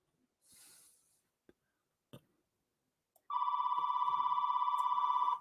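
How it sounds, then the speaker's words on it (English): A telephone rings loudly indoors with a steady, rapid electronic trill after a few seconds of quiet broken by faint breaths and small clicks. "Oh, nothing like the phone ringing."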